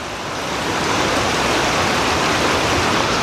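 South Boulder Creek, a tailwater below Gross Reservoir, rushes steadily in a dense, even roar of flowing water, close and continuous with no other sounds.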